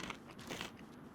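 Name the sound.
biting and chewing crunchy food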